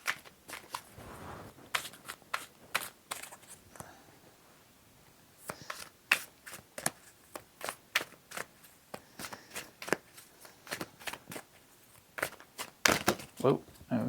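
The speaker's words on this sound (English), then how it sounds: "I'll do a couple more shuffles and then I'll just pull some." Tarot cards are shuffled by hand in quick, crisp riffling bursts, repeated many times with short pauses between, close and fairly quiet, with a voice speaking at times.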